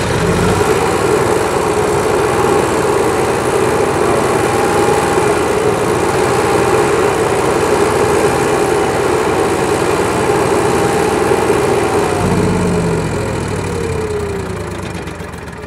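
The onboard generator of a Fleetwood Pace Arrow motorhome runs loud and close with a steady, slightly knocking engine drone, shifting in tone near the end as the level eases off.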